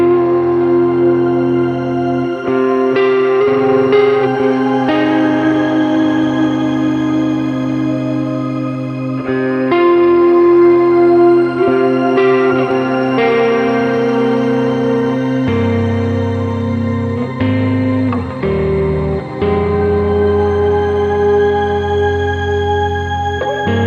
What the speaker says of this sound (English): We got a shimmer on the reverb as well